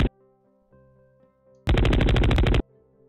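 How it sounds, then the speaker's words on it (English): Automatic gunfire from a gun template in a Godot 3 game: a single loud shot, then a dense rapid burst of about a second, played over quiet background game music with tones. "automatic fire."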